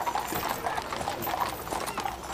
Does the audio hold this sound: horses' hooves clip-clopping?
yes